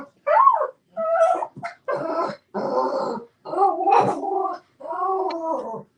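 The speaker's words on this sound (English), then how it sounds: "Dog?" A dog nearby whimpers and whines in about six separate drawn-out cries, some with a throaty, growling edge, each separated by short silences.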